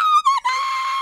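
A voice imitates a group of people screaming all at once, a loud, sustained high-pitched yell lasting about a second with a couple of brief wavering dips.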